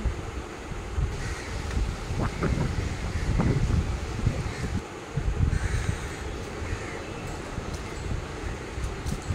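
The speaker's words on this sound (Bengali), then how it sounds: "সুন্দর হাওয়া দিচ্ছিল।" Wind gusting across an open riverside park beside the river near Howrah Bridge, a steady loud rumble buffeting the microphone throughout, with no voices.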